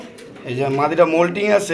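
A female racing pigeon coos in soft, rounded, repeating low notes at close range, while someone talks over it.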